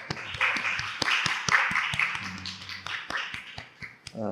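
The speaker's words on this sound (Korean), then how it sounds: "우리 하나님께 영광의 박수 올려드리겠습니다" Congregation at a Sunday church worship service clapping together in praise, a brisk run of sharp, fairly close claps with a faint voice near the end.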